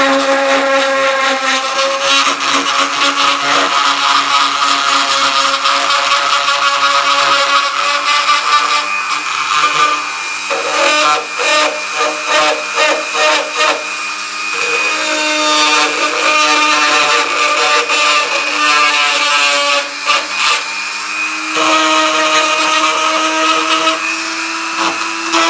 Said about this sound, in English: just cleaning up the leg with the Dremel